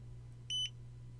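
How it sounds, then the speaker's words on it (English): A Godox V480 camera flash gives a short, clear electronic beep once it has recycled, a single tone over steady low hum in a quiet room. "when you hear the beep, obviously it's recycled"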